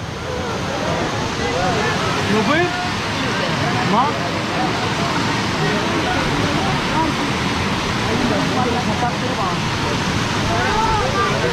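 River water rushes through a forest stream crossing in the Sonala forest range of a wildlife sanctuary near Akot. The hiss is constant and broadband, the same loudness throughout, with faint voices in the background.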